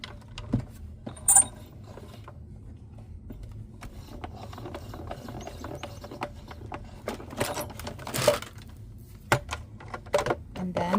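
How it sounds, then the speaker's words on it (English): A die cutting machine working through a paper frame for a card, a steady low mechanical grind with irregular clicks and clacks, and a few louder knocks, close and moderately quiet with no talking. "we're just going to die cut our frame first"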